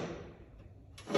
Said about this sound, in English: there's an arm on the top and an arm on the bottom where the door pivots like that to close